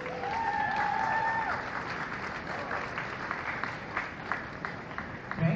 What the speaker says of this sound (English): So please, give a round of applause for Enza,